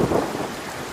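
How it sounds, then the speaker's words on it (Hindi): Heavy rain pours steadily in a Hindi cartoon about a flood in the jungle, with a deep rumble of thunder at the start fading under the dense, constant wash of rainfall. "पता नहीं ये बारिश कब रुकेगी।"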